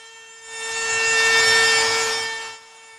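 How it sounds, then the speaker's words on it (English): Jigsaw cutting through wood to remove waste between two bored holes for a hand opening on a bocce ball trolley, a steady rising-and-falling buzzing saw run of about two seconds, close and fairly loud, with no talking. "then I use the jigsaw to remove the waste"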